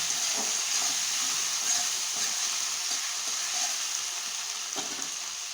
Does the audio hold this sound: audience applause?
no